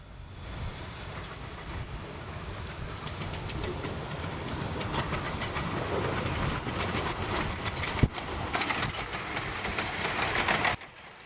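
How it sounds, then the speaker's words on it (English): Miniature steam locomotive Southern Maid draws its train in from Hythe past a brightly lit loco shed, giving a steady, fairly loud rumble of wheels and running gear with one sharp clank near the end before it cuts off. "Passing the brightly lit loco shed, Southern Maid brings in her train from Hythe."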